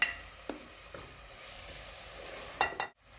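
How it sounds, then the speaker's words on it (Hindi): Tomato is added to a frying pan and stirred, giving a soft, low sizzle broken by a few scraping taps of the spoon and a short bump near the end, quiet and close. "इसमें टमाटर ऐड करने लगी हूँ,"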